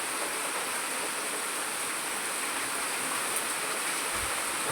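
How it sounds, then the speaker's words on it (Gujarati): Runoff rainwater from farm fields rushes past in a village during heavy rain, a steady, even broadband wash of flowing water with no pauses and no voices. "ખેતરોનું બધું પાણી અહીંથી જાય છે."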